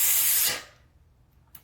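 One even, steady breath exhaled through the mouth, a loud smooth hiss that holds for about half a second and then fades out quickly, with a faint second puff near the end.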